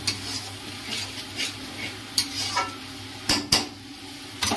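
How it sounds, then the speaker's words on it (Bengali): A curry in a pan is stirred with sour yogurt, producing a low sizzle under several sharp spoon clinks and scraping knocks against the pan. "টক দইটা দিয়ে আরও নাড়বো, নাড়তে নাড়তে তারপরে মাংসটা দেবো"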